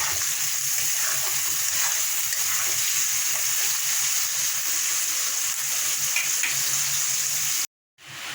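Carrots sizzle in a pan with capsicum, a steady, close frying hiss with faint stirring clicks that runs unbroken before cutting out abruptly near the end.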